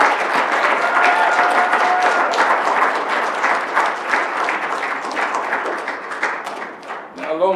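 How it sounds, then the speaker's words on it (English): A room full of people at a Rochester Board of Education business meeting claps steadily for an honoree called up front, a moderate, dense round of applause that thins near the end as someone begins speaking. "Let's give a round of applause."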